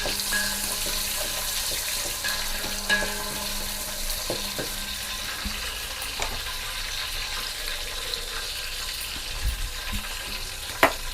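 Onions and green chillies fry in a home kitchen pan for vegetable biryani, a steady soft sizzle with occasional stirring clicks and faint water sounds, no voices.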